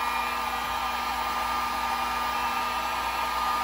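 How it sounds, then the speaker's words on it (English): A heat gun blows steadily, shrinking heat-shrink wire connectors during a boat bilge pump replacement; a loud, continuous airy whoosh with a constant whine runs through the whole stretch, with no talking. "these are heat shrink connectors, which means you can put a little heat on them"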